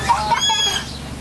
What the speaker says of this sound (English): Better watch that chicken before it chase you.